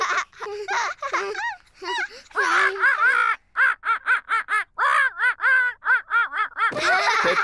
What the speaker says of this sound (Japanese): ペッパとジョージはオウムのポリーと遊ぶのが楽しくて仕方ありません